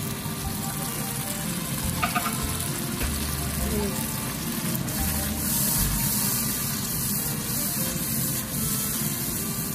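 Kofta masala frying in a pan with onion and tomato, giving a steady, loud sizzle that runs the whole time, with someone talking over it.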